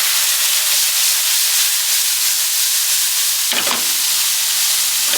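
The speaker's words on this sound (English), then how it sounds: "And we're going to deglaze" Extra dry vermouth hits a hot pan to deglaze with the fire turned off, giving a loud, continuous close sizzling hiss that briefly flares in a sharper burst partway through.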